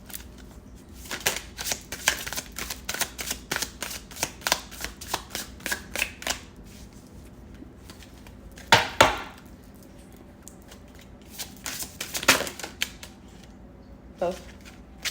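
Rapid bursts of card shuffling, riffles and rustles repeating in quick succession, with a few sharper snaps later and faint voices in the background.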